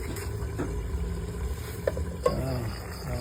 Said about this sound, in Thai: เดือดแล้วนะครับ เดือดแล้ว